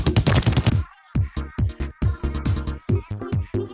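Ink weapon firing at grapple points in Splatoon 2, a quick burst of rapid shots followed by a series of separate sharp punchy pops in an uneven rhythm, loud and close.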